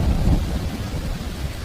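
Steady rain falls through a rainy day while deep rolling thunder rumbles low and close, filling the short stretch continuously with no voices.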